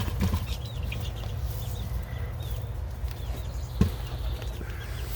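Chickens kept as backyard birds cluck and chirp softly amid a constant outdoor hum, with a short burst of wing flapping partway through.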